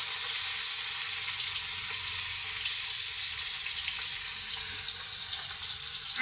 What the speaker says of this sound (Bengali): আর এখন আমি মাছগুলোকে যে ভেজে নিচ্ছি।